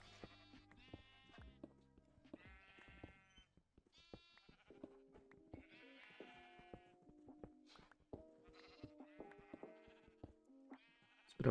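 Repeated sheep bleats from a game, several calls spread across the clip, mixed with cartoonish tones and effects.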